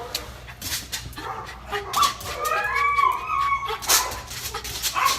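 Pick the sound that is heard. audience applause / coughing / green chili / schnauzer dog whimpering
schnauzer dog whimpering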